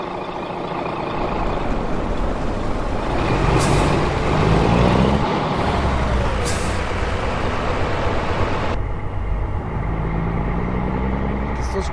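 Freightliner Classic XL double-trailer truck on a Colombian highway, heard from the cab as a loud steady engine and road roar, with short high hisses from the air brakes breaking through.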